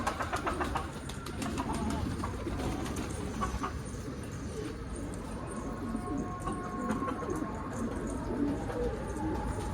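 Pigeons cooing nearby in a loft, low soft calls repeating over a steady background hum, with occasional brief higher chirps.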